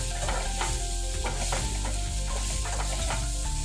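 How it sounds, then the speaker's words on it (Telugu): Carrot fries in an uncovered pan until browned: a constant hissing sizzle, with short spatula stirs and scrapes recurring every half second or so. "బ్రౌన్ కలర్ అయ్యేంత వరకు ఫ్రై చేసుకోవాలి క్యారెట్ని"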